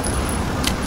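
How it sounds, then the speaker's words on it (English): Weapon reload in Left 4 Dead: a brief burst of metallic clicks and rattles, close and fairly loud, over steady low game background noise. "Reloading!"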